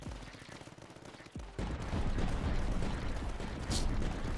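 Explosions and gunfire in the strategy game Tower Dominion, a dense burst of blasts and shots that swells suddenly and keeps rumbling loud, with a bright crack near the end.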